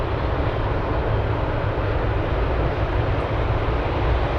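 Boeing 777 at Anchorage airport, a steady broadband jet engine roar heard from a distance, continuous and even throughout.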